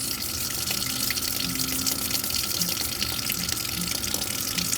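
Tap water runs in a steady, full rush into a sink while dentures are rinsed beneath it, with a few faint knocks under the constant flow.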